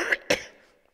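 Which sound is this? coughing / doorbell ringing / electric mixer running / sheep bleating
coughing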